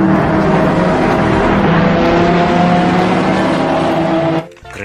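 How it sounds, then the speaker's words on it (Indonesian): A red toy race car engine roars loud and close with a steady high-pitched whine that holds throughout, then cuts off abruptly near the end. "Mobil balap warna merah."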